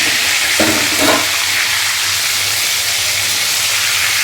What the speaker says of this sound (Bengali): এবারে মাছগুলো একে একে তেলের ভেতর দিয়ে দেবো।